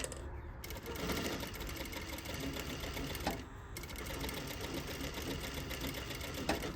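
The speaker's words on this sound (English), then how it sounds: "I'm going to sew this piece down." A sewing machine runs steadily while stitching a fabric pocket flap a quarter inch from the edge. The close, continuous mechanical whir has brief pauses for back tacks, with no talking.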